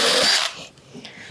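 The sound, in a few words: cordless drill drilling hole in plastic Pelican case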